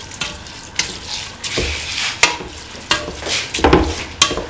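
Rice is stirred into a tomato and coconut mixture in a pot, with repeated scraping strokes and a soft sizzle running underneath, close and fairly loud, with no voices.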